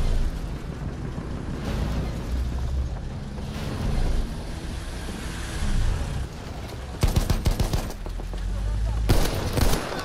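Gunfire rattles through a World War I battle in Battlefield 1, with bursts of rapid shots and heavier blasts over a constant din of combat.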